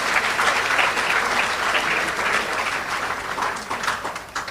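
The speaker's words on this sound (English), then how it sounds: "Let us give a round of applause to our students" Audience applause for students at a national excellence awards ceremony: a continuous, full clapping crowd, steady and fairly loud throughout with slight fluctuations in intensity.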